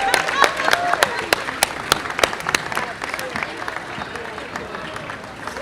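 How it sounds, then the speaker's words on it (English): An outdoor crowd at a Brooklyn Day celebration at Pier 2, Brooklyn Bridge Park, claps for a costumed superhero character, the Brooklyn Knights, with sharp, distinct claps over a crowd murmur and a voice talking. "You guys clap it up for the Brooklyn Knights."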